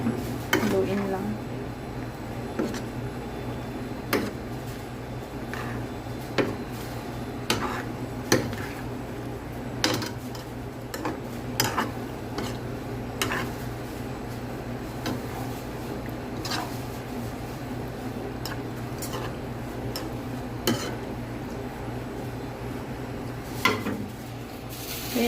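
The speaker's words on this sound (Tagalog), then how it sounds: "Haluin lang." Penne pasta with chicken breast and vegetables is stirred in a pan, with a steady run of scraping and clinking utensil strokes against the pan and a constant low background hum, close and moderately loud throughout.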